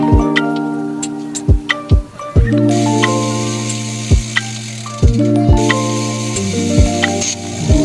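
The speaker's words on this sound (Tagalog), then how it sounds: "yung tunog ng 24 teeth ratchet" A 24-tooth bicycle hub ratchet clicks in loud, close bursts of sharp ticks, repeated in irregular spurts with ringing metallic overtones and no talking.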